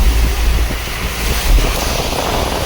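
Floodwater from heavy monsoon rain near Kudal, Sindhudurg, rushes past in a steady, loud roar, with low rumbling and gusty wind buffeting the microphone throughout.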